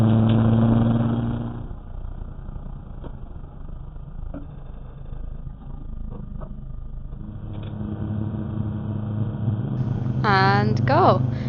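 A race car on a warm-up lap at Brands Hatch, weaving side to side to heat its tyres, gives a steady close engine drone throughout, rising slightly toward the end as a voice speaks over it.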